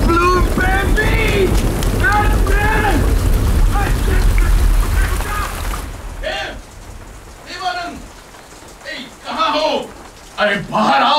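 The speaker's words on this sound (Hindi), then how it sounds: "बारिश हो रही है" Heavy rain pours in a dense, loud hiss during a scene in a Hindi film set at a coffee plantation, then eases as voices talk and exclaim over it.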